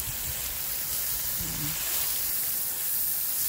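Water gushing from a garden hose as hands are washed outdoors in a container garden, a steady, fairly loud hissing spray that runs without a break, with no talk over it.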